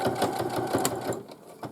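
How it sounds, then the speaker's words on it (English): A sewing machine reverse stitching along the folded fabric edge of a tote bag pocket, a close, steady mechanical whir with rapid needle clatter that eases off slightly near the end. "sewing along the edge of the folded fabric, making sure you don't catch the folded piece"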